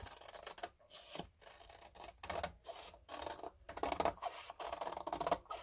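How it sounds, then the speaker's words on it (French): Close, quiet snips of scissors cutting through paper in a steady series of short strokes, with brief pauses between cuts. "petite paire de ciseaux."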